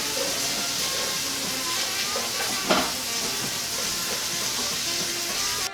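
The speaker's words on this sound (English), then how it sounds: "Once we finish adding this, we just have to stir it around some more." Bell peppers, onions and celery sizzle steadily in a gumbo pot as they are stirred, a continuous close frying hiss with a brief scrape partway through.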